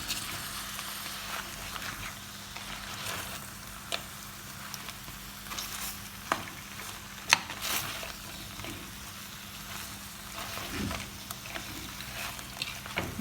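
Tomatoes sauté in a pan for crab curry, giving a quiet, continuous sizzle with occasional soft scrapes and clicks of stirring.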